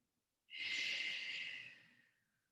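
Slow, relaxed breath exhaled during a yoga hip stretch with the forehead resting on a pillow, a single soft airy breath that swells quickly and then fades gradually, close and quiet with no talking.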